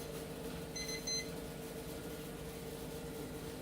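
A laboratory timer in a clinical pathology lab sounds a brief burst of faint, high electronic beeps about a second long, then falls silent over a steady low room hum.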